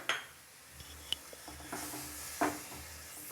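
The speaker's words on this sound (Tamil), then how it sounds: "இப்போ நல்லா கிளறிடலாம்." A spoon scrapes and clinks against a pot while semolina is stirred into milk, a few quiet taps and scrapes over a faint low hum, with no voices.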